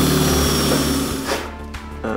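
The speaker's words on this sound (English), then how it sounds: "I'll start with a smaller drill." A power drill with a small bit bores a pilot hole into the wooden furniture of a custom replica RPD rifle, a loud steady whine that dips and falters in pitch as the bit bites into the wood.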